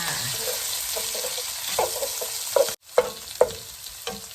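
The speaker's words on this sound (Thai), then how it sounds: "รอให้ไข่สุกนิดหนึ่งเพื่อคนนะคะ ไข่จะได้เป็นชิ้น คนเข้าด้วยกันเลยค่ะ" Eggs fry in a pan while being stirred for a glass noodle stir-fry with bacon, a steady sizzle broken by a few sharp scrapes and taps of a utensil against the pan.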